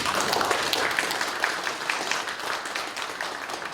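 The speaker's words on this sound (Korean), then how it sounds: "박수 한번 보내주세요." Steady applause from a lecture audience in a hall, a dense continuous patter of many hands clapping at moderate volume with no talk over it.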